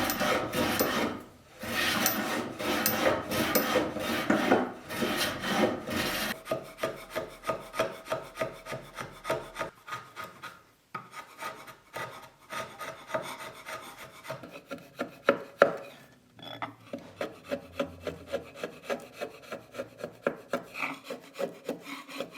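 Excess glue is scraped off wood in rough, rasping strokes: quick, loud scraping at first, then softer, evenly spaced strokes with brief pauses and no talk.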